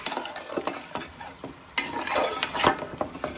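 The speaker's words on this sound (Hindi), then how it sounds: "हमने गोश्त को 4 से 5 मिनट तक इसमें भूनना है" Mutton fries with ground masala in a pot for biryani, a close sizzle punctuated by sharp metal-spoon scrapes and clanks as it is stirred and turned.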